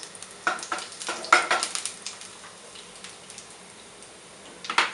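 Cumin seeds sizzle in hot oil in a pan for mushroom pulav, with a close crackle and a few sharp clinks and stirring scrapes that come in irregular bursts.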